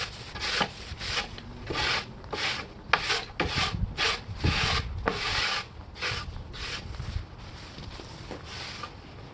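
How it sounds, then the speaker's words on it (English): Sanding by hand along edge banding on an outdoor kitchen cabinet, with repeated close scraping strokes in a steady back-and-forth rhythm, each a short rough rasp with brief pauses between them. "just lightly sand it again to make sure there's no very sharp edges"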